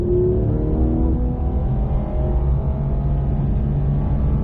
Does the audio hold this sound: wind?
no